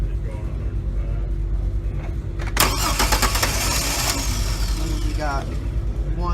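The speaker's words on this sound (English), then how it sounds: "we're gonna turn the car over and get the reading" Car engine cranked over by its starter during a starter diagnosis, a steady mechanical churning that catches and runs at a rough idle, heard close up.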